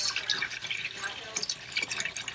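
Distilled water pours from a jug onto surgical instruments, giving a bright, uneven splashing and trickling stream that stays fairly close throughout.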